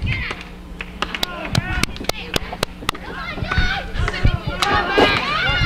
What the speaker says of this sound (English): Crowd trying to get behind the Gladewater boys